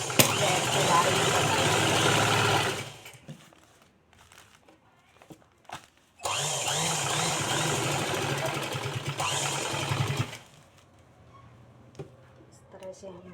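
A sewing machine stitching a plastic sack handbag runs in two long, loud, steady bursts of rapid whirring, with quiet pauses and small handling clicks between them.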